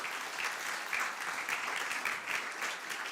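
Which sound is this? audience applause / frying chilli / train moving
audience applause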